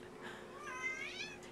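A mother cat lets out a single quiet, drawn-out meow with a rising and falling pitch. It is faint and heard alone.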